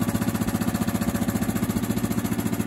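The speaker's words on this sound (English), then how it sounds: "It does take some time when you shut the engine off for the blades to stop spinning in there." A Split-Fire horizontal wood chipper runs with a steady, rapid mechanical pulsing, its blades and engine churning loudly and evenly throughout without any voices.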